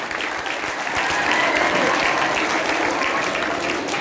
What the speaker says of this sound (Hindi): तालियां ऐसे ऐसे कम होते जा रही।